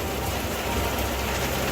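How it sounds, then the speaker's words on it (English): Heavy rain drumming on the hardtop roof of a boat during a thunderstorm, a dense, even hiss heard from inside the dry cabin with no voices. "it's quite a relaxing sound, the rain on the roof"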